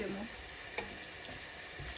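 Beef sizzles and spits in a hot pan as hot water is poured in, a steady bubbling hiss with a brief louder splash near the start, close and fairly quiet.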